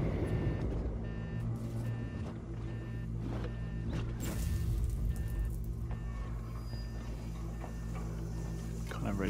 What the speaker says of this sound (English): Beeping is unsettling.